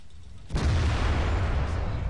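A single heavy tank cannon blast in World of Tanks booms out after a brief quiet moment, followed by a deep rumbling roar that lingers.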